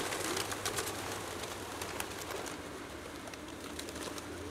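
Pigeons cooing and rustling in a busy 16th Street BART station in San Francisco, a steady low murmur of birds under constant station hiss and scattered clicks, no talk.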